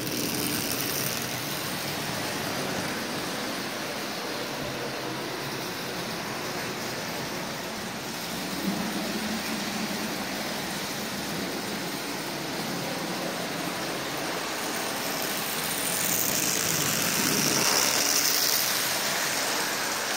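Marx toy train motor fitted with a magnetic third-rail wiper hums steadily while pulling a load around the track, a continuous mechanical whir that swells slightly near the end.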